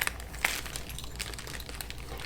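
A small plastic bag holding a sewing-machine pin is handled up close, giving soft, steady crinkling with a few sharper rustles.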